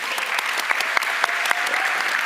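Audience at a youth summit panel applauding, a dense, even patter of many hands with a few sharper claps standing out, steady throughout.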